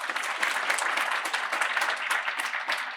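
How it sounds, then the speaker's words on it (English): An audience applauds presenting groups at a program's final presentations, producing a dense, even patter of many hands clapping at moderate loudness without a break. "Can we give them another round of applause?"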